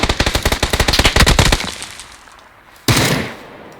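Rapid automatic gunfire in PUBG, a fast burst of about a dozen loud close shots, then a pause and one more sharp shot with a ringing tail, and no talk over it.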